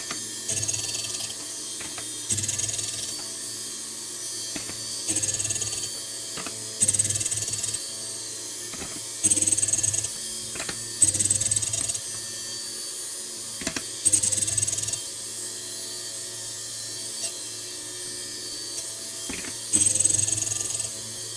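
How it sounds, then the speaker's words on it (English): A Model 09-P point splitter grinds the point of a drill bit in a workshop. Bursts of buzzing, gritty grinding repeat roughly every two seconds and are separated by brief quieter gaps, heard close and with no talking. "Flip the chuck, and grind the other side."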